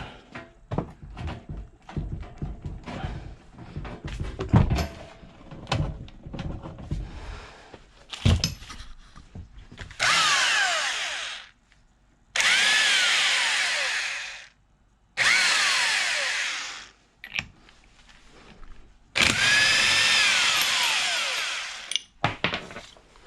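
An impact wrench on a 24mm socket rattles off a motorcycle gear shifter nut in four loud, close bursts of a few seconds each, following a stretch of clanking and handling of tools.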